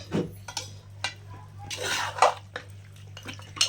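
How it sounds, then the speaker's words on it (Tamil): Mutton is stirred in ginger-garlic paste in a pot, with repeated scraping and clanking of a metal spoon against the vessel in irregular strokes, close and clear over a low steady hum. "ஒரு 10 நிமிஷம் இந்த இஞ்சி பூண்டு பேஸ்ட்லேயே நல்லா நம்ம பரட்டி எடுத்துட்டு"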